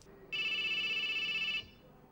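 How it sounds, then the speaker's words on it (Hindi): A telephone rings once in a single sustained electronic trill lasting just over a second, loud and close against a quiet room, with no speech over it. "ये अब किसका फोन है?"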